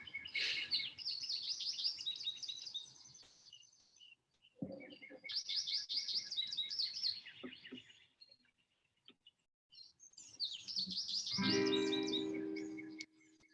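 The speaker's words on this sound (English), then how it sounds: "Can you hear my birds singing?" Birds sing outdoors in three bursts of rapid, high chirping and trilling, fairly close, separated by short quiet gaps with faint lower noises beneath.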